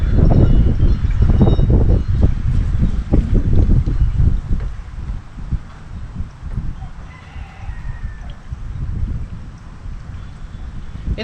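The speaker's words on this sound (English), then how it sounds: "It's really windy and it's about 45 degrees." Gusty outdoor wind on a cold day buffets the microphone in heavy low rumbling surges, strongest early and easing later, with no talking.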